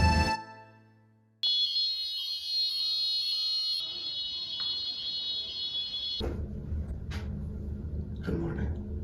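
A fire alarm in Paris sounds a loud, piercing continuous electronic tone that breaks off and restarts, then fades under muffled room noise and movement.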